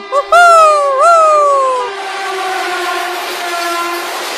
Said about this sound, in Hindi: अरे ये ट्रेन तो रुकी ही नहीं